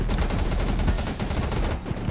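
Rapid, dense bursts of gunfire from the top-down shooter game 20 Minutes Till Dawn fire continuously and loudly, layered with game effects and no voices.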